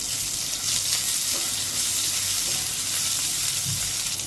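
Green chili and chili flakes sautéing in a pan over low flame, a continuous loud hissing sizzle with faint stirring scrapes, close and steady throughout.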